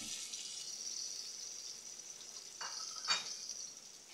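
Garlic and ginger fry with a soft, even sizzle in a pan, with a few brief scrapes and clinks of stirring near the end, quiet and close with no voices.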